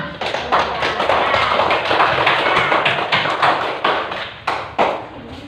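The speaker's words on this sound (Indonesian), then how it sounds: "Tepuk tangan untuk penampilan dari kelompok" Classmates clap for a group's performance in a room, brisk close-up hand claps swelling into a thick patter and then thinning into a few scattered claps toward the end.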